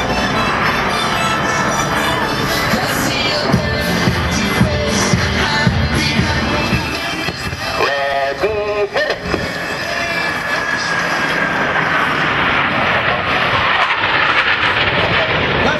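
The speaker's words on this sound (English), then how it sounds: "From the right, at 400 miles per hour, the Diamond roll." Blue Angels jets sweep past at an airshow during the Diamond roll, four aircraft rolling together at about 400 mph; a loud, continuous broadband roar holds throughout, swelling and shifting as they pass.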